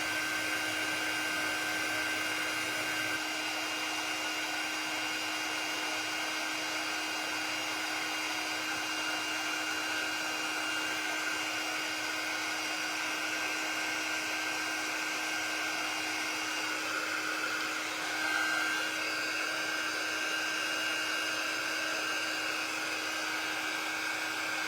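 A hair dryer blows steadily over a fresh coat of paint, giving an even, continuous whine and rush of air that runs unbroken and moderately close throughout.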